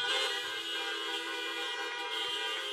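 Car horns honk together at a drive-through graduation for Bishop Carroll High School, a dense, sustained chorus of overlapping horns blaring steadily throughout.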